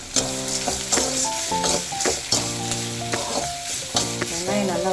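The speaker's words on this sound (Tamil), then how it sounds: "வெங்காயம் பூண்டு நல்லா வதங்கிடுச்சு" Onion and garlic sauté in a pan with salt and turmeric for a bottle-gourd (sorakkai) kootu, giving a continuous sizzle with stirring, under steady melodic tones throughout.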